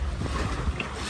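A houseboat moves along the Kerala backwaters at Alappuzha, giving a steady, fairly loud low rumble and rush of water and wind with no clear breaks.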